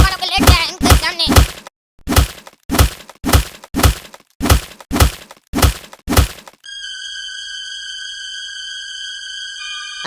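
Blows land in a staged comedy beating: a series of sharp, heavy thwacks in quick clusters, loud and close, followed by a sustained electronic tone with no talk.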